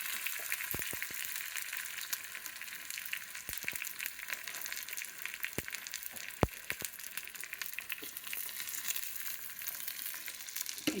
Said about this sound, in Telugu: తాలింపు వేసుకోవాలి. ఉల్లిపాయలు,